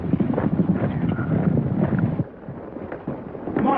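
Several horses gallop past in an old Western, a rapid, uneven clatter of hooves at middle distance with a dull rumble beneath, easing briefly before picking up again.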